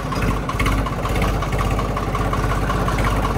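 John Deere 5205 tractor engine running steadily at idle during a mung bean harvest field outing, a continuous low rumbling drone with slight throttle fluctuations, loud and close throughout with no talking.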